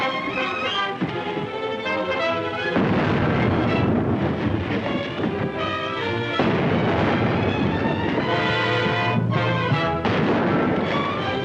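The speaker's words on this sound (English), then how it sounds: "Stand by for a broadside." Naval cannon broadside fire from a ship in a 1936 Civil War film, heavy booming blasts rolling on continuously and loud for the whole stretch, thick with echoing rumble and background score.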